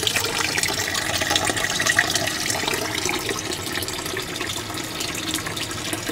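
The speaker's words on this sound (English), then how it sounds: "My aquaponic system is working all the time, and my siphon that I built is beginning to drain." Water draining through a homemade siphon in a 50-gallon aquaponics system inside a greenhouse, a steady hissing, gurgling rush that runs continuously at moderate volume without a break.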